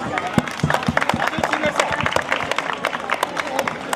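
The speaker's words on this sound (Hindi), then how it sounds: "साहब के लिए तालियां बजाइए प्लीज" Audience at a shooting ball championship and award ceremony clapping for a guest, a dense, steady patter of many hands with crowd murmur underneath, filling the whole stretch.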